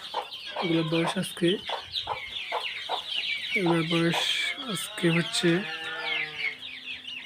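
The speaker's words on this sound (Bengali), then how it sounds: "আমাদের কিছু মুরগির বাচ্চা ছিল ব্রুডিংয়ে" Young native chickens, about 21 days old and kept in a brooder, chirp and cluck in short bursts close by while someone talks over them.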